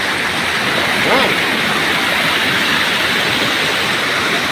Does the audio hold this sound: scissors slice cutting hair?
no